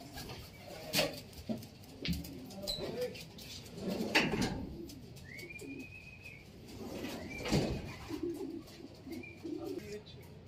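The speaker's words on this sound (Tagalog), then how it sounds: "Another three birds." Racing pigeons at a pigeon race in Unisan coo in low, soft bursts close by, with a few higher bird chirps and calls scattered through the background.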